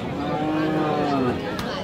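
A cow moos loudly and close by at a cattle market, one long drawn-out call with a falling pitch. Market chatter and background voices carry on underneath it.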